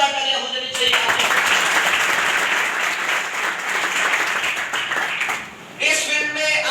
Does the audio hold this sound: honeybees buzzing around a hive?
no